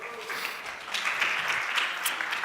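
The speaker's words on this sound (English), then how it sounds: "Give them a big round of applause." A conference audience applauds a contestant coming on stage, with a fairly faint wash of steady clapping held throughout and a little voice underneath.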